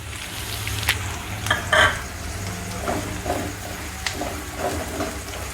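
Green chillies fry in hot oil in an okra (bhindi) dish, with a soft steady sizzle broken by sharp pops and stirring scrapes that come at irregular moments, close by and with no speech.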